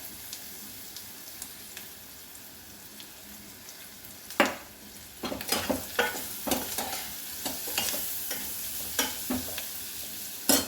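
Garlic frying in a pan for chole masala curry, a soft steady sizzle with a series of sharp scraping stirs growing more frequent in the second half, close and without speech.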